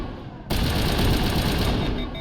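Sustained rapid automatic fire from the Avenger assault rifle in the Mass Effect game, a loud dense burst that starts abruptly and keeps going without pause.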